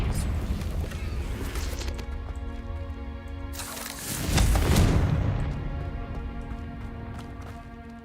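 A Confringo fire spell explodes in Hogwarts Legacy during a fight with giant spiders, a loud booming burst rising over steady game sound and music, then a long rumbling tail that slowly fades.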